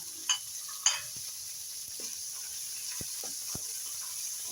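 Beef browning in a pan for mung bean stew, with a steady low sizzle and a few sharp scrapes and clinks of a spoon stirring, close by and fairly quiet.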